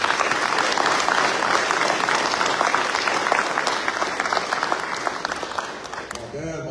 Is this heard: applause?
yes